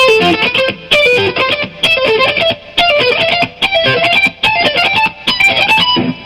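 A distorted electric guitar plays a repeating lick harmonized up and down the scale at a 1989 guitar clinic, phrases rising and falling in short bursts with brief gaps between them.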